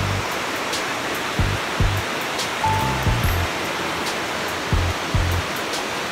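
Water rushes steadily at a large waterfall or river, a dense continuous roar with a few faint low thumps underneath.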